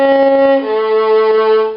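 Violin playing measure 107 of the second violin part from The Wizard of Oz, a short sustained phrase moving from one held note to a higher held note, clear and close, without talk.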